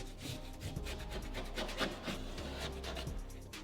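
A tool scrapes drywall beside a window, making steady rough rasping strokes in a fast rhythm that carry on without pause, close and fairly loud.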